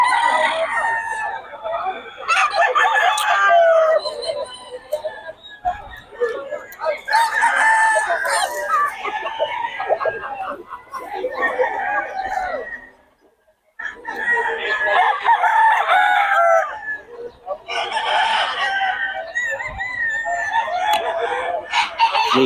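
Roosters crow again and again and hens cluck close by, with the loud crows coming in several long bouts and short gaps between them.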